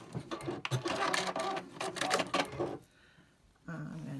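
A sewing machine stitches a small dark patchwork square to a medium rectangle, a soft rapid mechanical whir with faint clicking that runs steadily, pauses briefly, then starts again, quiet and close.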